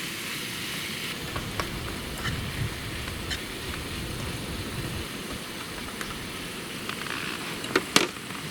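Meat frying in a pan outdoors by a forest lake: a steady, soft sizzle with occasional small pops and crackles, fairly faint and continuous, with no talking.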